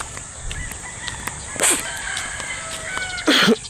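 A rooster crows at moderate distance over steady outdoor background hiss, with a sharper call near the end.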